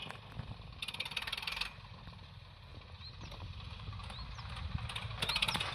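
Small compact tractor fitted with a rotavator, its engine running steadily nearby with a low continuous rumble and occasional rattling bursts, outdoors with faint background sounds.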